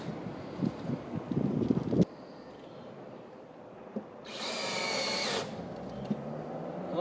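Fasteners are driven into a roof deck to mount rafterless solar racking: a short burst of power-tool driving at the start, then a quiet lull with light wind buffeting the microphone, and one loud hissing rush partway through.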